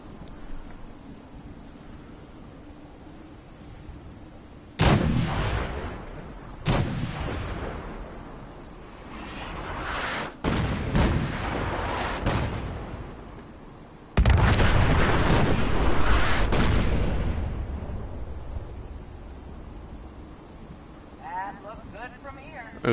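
Cannon artillery in the Fallout game fires in several heavy booming blasts, each a sudden loud crack that rolls off into a long rumbling decay over a steady rain-like background hiss.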